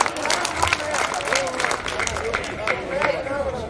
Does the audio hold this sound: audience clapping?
yes